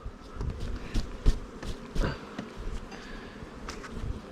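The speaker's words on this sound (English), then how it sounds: "now we have lots of bees in here" Honey bees hum in an opened beehive, a soft, continuous buzz with occasional louder passes from individual bees flying close by, and no voices over it.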